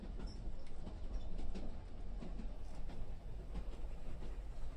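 Quiet, steady rumble of a train in motion on the Hope Valley Line with faint creaks and soft rhythmic clicks, close by and low in level.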